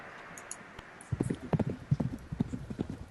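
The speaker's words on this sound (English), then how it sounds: "you hear the noise of clogs stomping the ground" Clogs clatter on the ground in a quick, uneven rhythm, a clip-clop like hooves, moderately close and otherwise quiet.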